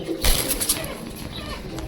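Racing pigeons with rare eye quality coo in a loft, a soft low murmur under a brief burst of broadband rustle near the start, steady and close.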